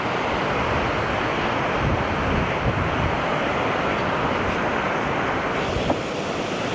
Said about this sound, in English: It is quite windy, so hopefully the mic isn't getting too much wind.